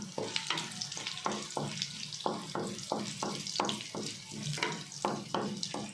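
Mustard seeds, cumin and chana dal crackle and sizzle in hot oil for a tempering, with a rapid series of sharp pops over a steady frying hiss, close and moderately loud, no talking.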